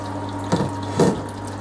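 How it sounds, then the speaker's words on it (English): Water trickles in slowly through a ball valve on a homebrewing setup, a soft steady flow with two brief louder gushes, close by and heard without talk. "with this ball valve. There we go, we've got slow flow coming in."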